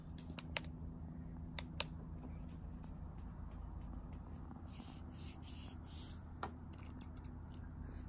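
Faint rustling and scattered small clicks and snaps at night near an outhouse, quiet and intermittent over a low background hum, with a brief denser scratchy patch near the end.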